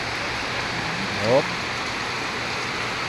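Steady rain falls on an afternoon outdoors, a constant hiss with a brief faint sound rising in the middle.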